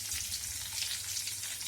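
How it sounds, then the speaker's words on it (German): Garlic and basil sizzle in a hot pan, a dense crackling hiss that stays quiet and steady through the short stretch. "um den Knoblauch und den Basilikum so ein bisschen anzubraten"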